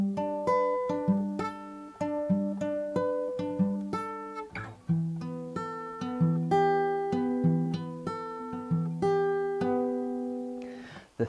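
Acoustic guitar playing a riff, clear plucked notes and ringing chord shapes in a steady repeating pattern, close and solo with no voices.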